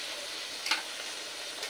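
Small bacha fish fry with spice paste in a pan, giving a faint, continuous sizzle with a brief scrape or tick partway through.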